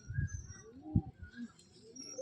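Pigeon of the red flower type, a fancy Giribaz bird, coos softly in a few low, throaty pulses close by, with faint background noise and no talk.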